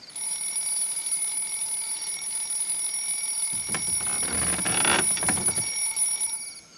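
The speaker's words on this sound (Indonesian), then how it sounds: "Ngapain lagi si Baba pasang alarm jam segini?" An alarm clock rings with a continuous high electronic beeping that holds steady and fairly loud for several seconds, with some rustling movement partway through, then cuts off.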